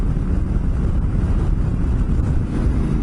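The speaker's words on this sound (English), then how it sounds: "it's pretty windy" Strong desert wind buffets the microphone in a steady low roar, constant and close, with no voices.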